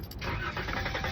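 A 2014 Dodge Caravan engine catches and settles into a steady, close running rumble after a brief starter whir at the outset.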